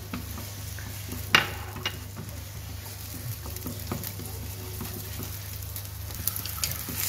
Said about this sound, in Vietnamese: Các bạn cho một nửa số hành vào phi, còn nửa còn lại mình sẽ xào bún.